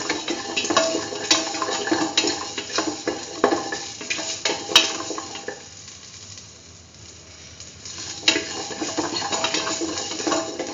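Beetroot and mung beans are stirred and mixed with salt in a pot, steady scraping and clattering of a spoon with soft sizzling. A brief quieter lull comes before the stirring resumes.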